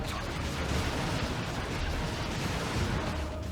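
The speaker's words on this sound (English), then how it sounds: "Vindicator wasting a shot there." A Vindicator tank fires in Dawn of War 2, heard as a dense, rumbling artillery blast that fills the short clip with heavy, sustained booming noise.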